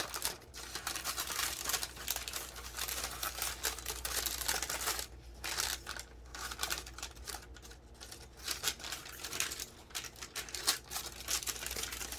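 Paper being cut with scissors while trimming a piece out for a craft page: steady close crinkling and snipping throughout, with brief quieter pauses and no talking.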